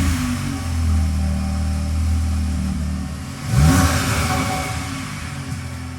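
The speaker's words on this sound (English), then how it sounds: "the engine note sounds amazing" A 2022 Audi S3 with quad exhaust idles with a deep, steady burble, then gives one sharp rev that swells and falls back to idle, loud and close with no talking.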